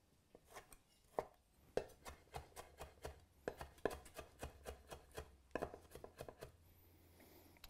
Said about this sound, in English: I wanted just a really fine mince on this bacon.